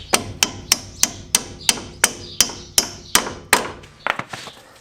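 A hammer taps a ball joint on a Peugeot into place during a P bush replacement: about a dozen sharp, close metallic strikes at a steady rhythm, ending in a quicker cluster of lighter taps.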